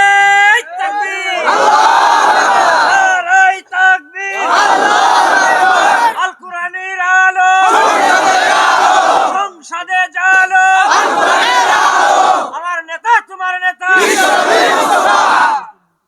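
Crowd at a religious sermon in Bogura shouting slogans in loud, unison bursts, five long chants separated by brief pauses, with a leader's call between them.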